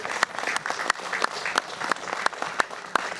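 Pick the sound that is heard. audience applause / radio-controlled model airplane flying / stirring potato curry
audience applause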